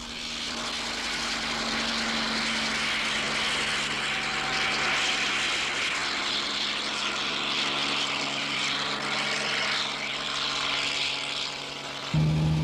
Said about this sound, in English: A month later, the chopper returns.